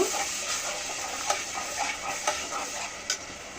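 Ginger and garlic paste frying in hot oil in a pan, a steady close hiss with a few light clicks of stirring over it.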